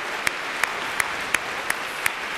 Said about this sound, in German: Einen großen Applaus für den dritten Platz bei diesem Wettbewerb.